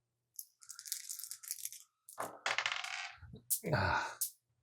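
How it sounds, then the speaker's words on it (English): A die rolled across a table during a board game, with bright clattering rattles and tumbling clicks in a few separate bursts, close and fairly loud with short pauses between them. "that die took a powder on me, so let me just roll this one in its place"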